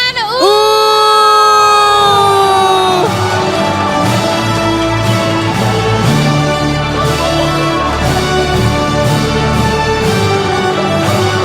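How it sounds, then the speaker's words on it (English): A large crowd at a 2024 graduation ceremony on a Bangkok campus cheers loudly for an award winner, with whoops and shouts rising over sustained applause and a bright musical tone at the start. "Can we cheer for Nan"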